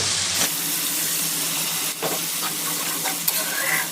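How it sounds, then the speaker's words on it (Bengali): Water poured into spice paste of mustard, salt and turmeric frying in oil in a pan for a small tangra fish curry, a steady loud sizzle and bubbling with stirring scrapes throughout. "মশলার গা দিয়ে তেল ছেড়ে দিয়েছে। আমি এতে দিয়ে দেবো জল।"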